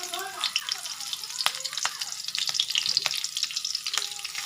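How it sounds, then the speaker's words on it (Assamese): Garlic and chili frying in hot mustard oil in a wok, a steady close crackling sizzle with scattered sharp pops and spatters throughout. "গৰম হোৱাৰ পাছত মই ইয়াত নহৰু আৰু জলকীয়া দি দিছোঁ।"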